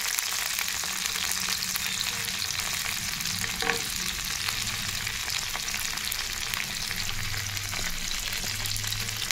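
Dry fish, small nethallu, frying in a pan with a steady, dense sizzle and occasional stirring, close and continuous with no talking.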